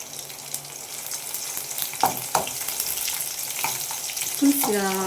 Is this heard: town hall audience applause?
no